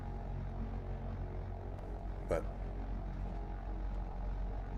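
A propeller airplane engine in the DCS flight simulator drones steadily at a low, even pitch throughout, with a brief whooshing swell near the middle and a single spoken word at the start.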